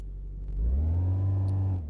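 A car engine in a salvage-and-rebuild garage game hums low, swells as the car rolls into a parking spot, then holds a steady, close drone before easing off.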